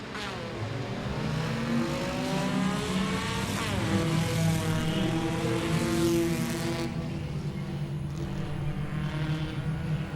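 Race cars roar around Langley Speedway in a Bojangles Enduro, engines loud and close and continuous, the pitch rising and falling in steady waves as cars pass and accelerate.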